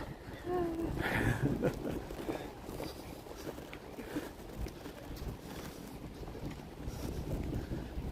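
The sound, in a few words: wind blowing into the microphone outdoors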